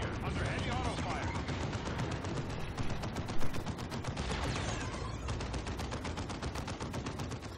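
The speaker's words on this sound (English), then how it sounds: "Target here under heavy auto fire." Heavy automatic gunfire from the Dawn of War 2 strategy game rattles in dense, rapid bursts with booming shots mixed in, loud and continuous throughout, with voices heard over the battle.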